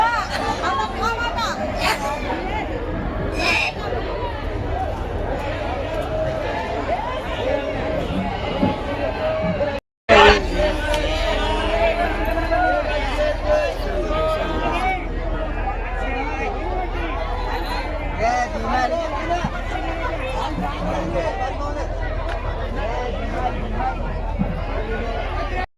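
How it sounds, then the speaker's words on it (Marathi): Bustling crowd at the Colaba fish market on a cold day: a steady, loud babble of many overlapping voices and shouts, with a brief dropout partway through before the busy chatter resumes. "गर्दी भरपूर आहे."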